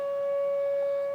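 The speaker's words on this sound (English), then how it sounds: "They got the sirens going right now" A siren holds a steady, unwavering tone, loud and continuous throughout.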